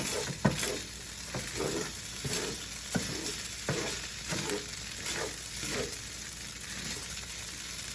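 Fried rice sizzling in a hot pan, one side running hotter, a continuous close hiss and crackle broken by occasional spatula taps and stirring scrapes, with no one talking.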